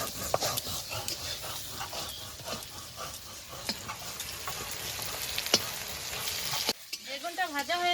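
Eggplant fries in hot oil in a pan while a utensil stirs it, a steady close sizzle broken by scraping clicks and knocks, ending with a brief sputtering crackle.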